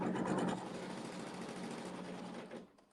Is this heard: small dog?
no